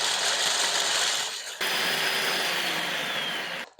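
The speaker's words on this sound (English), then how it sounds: "to our food processor, we're going to add all of our pistachios, and we're going to pulse these until they're finely ground" A food processor pulses pistachios into a fine grind: two loud whirring bursts of blade and nut clatter, separated by a brief dip, then an abrupt stop.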